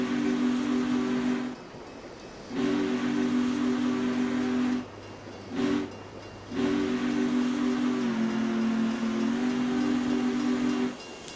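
A locomotive in the Train Simulator Classic game sounds its horn in long sustained blasts, broken by brief pauses and a short toot, with steady rail rumble beneath and no talking.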